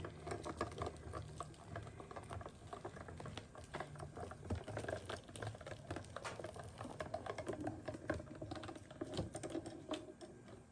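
A Gemini Junior manual die cutting machine rolls an embossing folder sandwich through its rollers, giving a steady low mechanical rumble with dense ticking and clicking for about ten seconds, with no voices.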